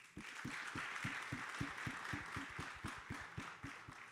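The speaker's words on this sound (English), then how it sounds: "Let's put your hands together." Audience applause at a hospitality and tourism leadership event in Dubai. A soft, steady patter of many hands sounds from a moderate distance, with rhythmic low thumps running evenly beneath it.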